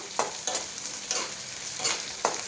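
Ingredients for antina unde fry in a pan with a constant sizzle, punctuated by about five rhythmic scrapes of a spatula stirring, close and clear.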